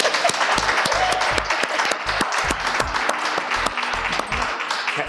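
An audience at a storytelling event breaks into sustained applause, a dense clatter of many hands clapping close by for several seconds.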